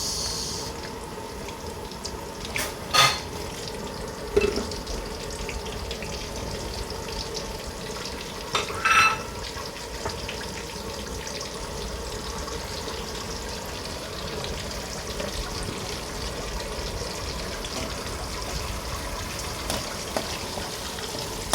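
Garlic and onion frying in a pan for pork adobo, a steady, low hissing sizzle that runs throughout, with a few brief utensil clinks and scrapes scattered over it.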